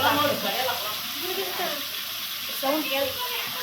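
Ground masala paste fries in a pan for a birthday biryani, giving a soft sizzle and hiss under someone talking nearby.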